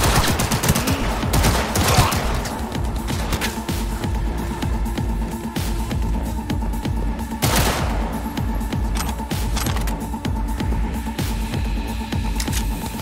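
Heavy gunfire from a Cyberpunk 2077 firefight rattles in rapid automatic bursts, broken by louder close blasts near the start and the middle. A steady electronic hum runs underneath throughout.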